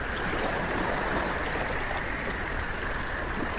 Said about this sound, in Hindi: देखो कितनी बड़ी बड़ी लहरें आ रही हैं। उसके साथ ये तेज हवाएं।